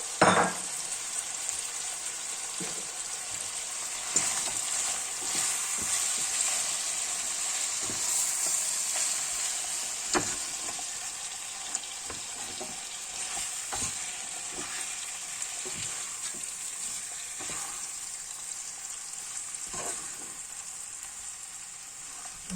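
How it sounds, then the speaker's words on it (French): Veal with chickpeas and spices frying and being stirred in a tajine pot, a steady close sizzle with scattered scrapes and clicks of the spoon throughout. "Donc là, je vais venir mélanger."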